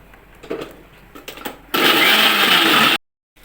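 An electric mixer grinder whirs loudly for about a second and a half while grinding garlic and shallots, cutting off abruptly after a few soft handling knocks and taps.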